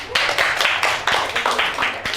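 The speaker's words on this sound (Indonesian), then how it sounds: "tepuk tangan untuk akun" Studio audience clapping in rhythmic, fairly loud bursts at a live comedy show, a tight group of hands near the microphone, sustained for a couple of seconds.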